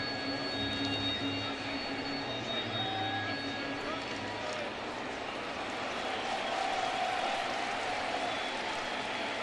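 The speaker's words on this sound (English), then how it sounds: "They clapping for contact or for a strikeout?" Ballpark crowd at a Nationals vs Tigers baseball game, a steady wash of broad applause and murmur holding at an even level throughout, with faint tonal chirps sitting above the noise.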